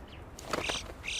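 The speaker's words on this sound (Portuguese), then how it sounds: "A gralha de bico amarelo é parente do corvo comum e pode ser encontrada em todos os Alpes" A yellow-billed Alpine chough gives a few short, shrill calls in the high Alps, moderately clear against a steady background of wind or ambient noise.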